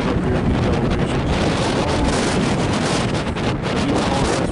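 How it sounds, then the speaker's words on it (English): Strong wind roars steadily across a high mountain peak in Virginia, buffeting the microphone with constant loud rumble and no voices. "Pretty strong winds up here in these elevations."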